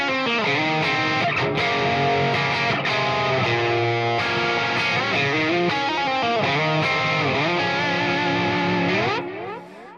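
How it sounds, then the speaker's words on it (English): Distorted electric guitar riff played at steady loudness with dense chords and harmonics, effects adding a chorus-like shimmer, ringing out for ten seconds before fading at the end. "if we play that with distortion, it sounds like this."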